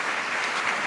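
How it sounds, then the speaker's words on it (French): Audience applause from a live radio show studio crowd, steady dense clapping throughout, fairly loud and alone. "On peut t'applaudir bien fort."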